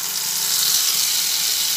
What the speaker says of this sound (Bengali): তেল গরম হয়ে এসেছে, তখন যে পেস্টটা রেডি করে রেখেছি পেস্টটা তেলের মধ্যে দিয়ে দিলাম